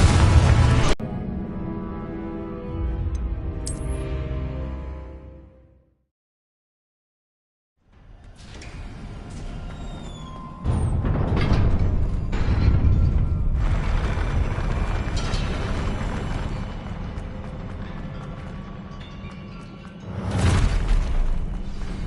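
Confringo blast spell explosions in the Hogwarts Legacy video game: heavy booming blasts with rumbling decay, a loud burst at the start, a brief silence, then sustained rumbling combat noise and another strong blast near the end.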